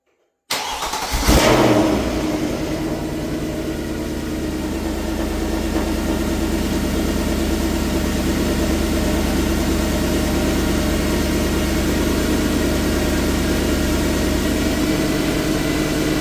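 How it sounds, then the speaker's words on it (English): A Mercedes E63 AMG engine cranks and fires up with a loud burst, then settles into a steady, strong idle with a deep rumble that carries on for the rest of the clip. "Motor sounds as healthy as ever."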